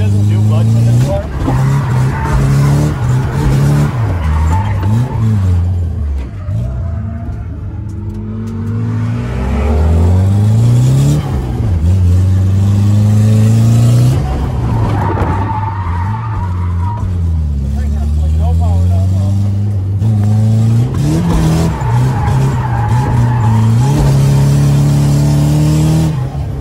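A Nissan S13 drift car revs hard and shifts repeatedly as its tires skid and squeal through long slides, loud and close throughout, with people talking over it.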